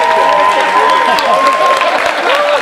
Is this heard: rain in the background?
no